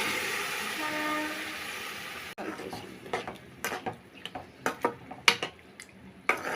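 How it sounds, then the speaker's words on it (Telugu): A pressure cooker with mutton and water lets out a loud, steady hissing whistle for about two seconds that cuts off abruptly, followed by scattered clinks and scrapes of kitchen utensils nearby. "4 విజిల్స్ రానిచ్చానండి"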